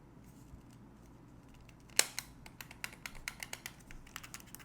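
A PS5 controller's R1 button snaps back into its housing with one sharp plastic click, followed by a quick series of faint, close ticks and taps.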